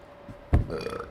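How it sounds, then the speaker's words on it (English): A man lets out one short, deep burp close to the microphone during a casual indoor podcast about airsoft, with quiet room tone around it. "I'll be cutting all these burps and shit out, I reckon"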